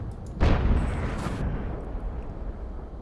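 A tank cannon shot from the FV304 in World of Tanks lands with a heavy, sudden boom and a rumbling decay, followed by a second, fainter burst and continuous low battle noise.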